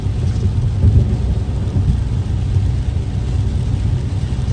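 Heavy rain drums on a car while it drives through Los Angeles, a dense, steady low wash of water and road noise heard from inside, with no talking.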